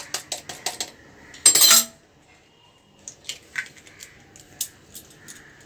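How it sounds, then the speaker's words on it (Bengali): An egg cracked into a cooking pot while making rainy-day khichuri: sharp metallic taps and clinks of shell against the pot, then a brief louder scrape, followed by scattered lighter clinks of utensils. "এর মধ্যে একটা ডিম ফাটিয়ে দেব।"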